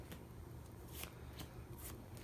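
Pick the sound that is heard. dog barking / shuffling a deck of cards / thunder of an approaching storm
shuffling a deck of cards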